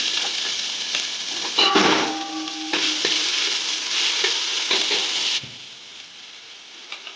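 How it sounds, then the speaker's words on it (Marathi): Cumin and garlic sizzle steadily in hot oil in a pan, a loud, close, continuous frying hiss with stirring scrapes, which cuts off sharply near the end to near silence. "याच्यामध्ये जिरं टाकते, लसूण"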